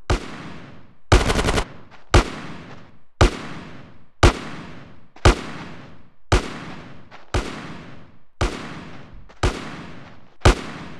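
Gunfire in GTA San Andreas, about a dozen loud, evenly spaced shots each ringing out with a decaying echo, one tight rapid burst early on, no talking.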